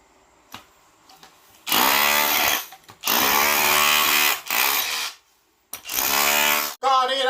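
A cordless drill used as a chisel chips old tile mortar off a floor, giving loud harsh bursts of hammering grind in three long runs separated by pauses, with someone talking briefly between them.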